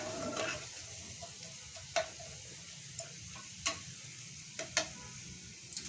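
Garlic frying in oil in a pan for beetroot pickle, a faint steady sizzle with scattered light clicks and taps of a utensil, no talking.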